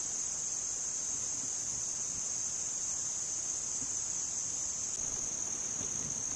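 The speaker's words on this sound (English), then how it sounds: "Here's like a little bush cricket type thing, I think they call them." A bush cricket in a mountain meadow gives a steady, unbroken high-pitched trill, faint and fairly close, against quiet outdoor background with no talking.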